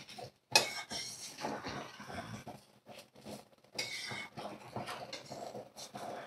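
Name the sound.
mixing egg biryani in a pot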